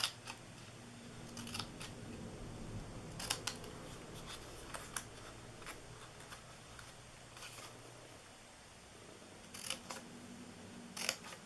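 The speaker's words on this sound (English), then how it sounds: "Then we're going to cut these corners here. I'm going to turn around and cut the other side." Scissors snip the corners of paper for handmade treat boxes: a handful of short, crisp cuts come in scattered bursts, close up, over a steady low background hum.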